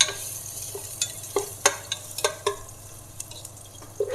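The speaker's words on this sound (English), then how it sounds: "Let me stir it." A spoon stirs ginger, garlic and coriander paste with a split chili in a frying pan, giving scattered scraping and knocking strokes over a steady low sizzle, with no talk.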